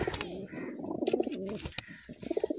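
Pigeons cooing in a loft where a breeding pair is kept, with repeated soft throaty coos and a few quick chirps and wing rustles, close by and with no talk over them.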